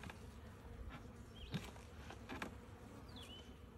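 Honeybees buzz steadily around an open hive during a spring inspection, a soft, continuous drone from near the hive with no talk over it.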